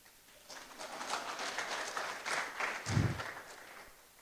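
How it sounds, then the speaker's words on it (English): Scattered, fairly light clapping from a lecture-hall audience honouring a poet at an inaugural lecture, loose and uneven, with a fuller swell near the middle before thinning out. "Clap for the poet."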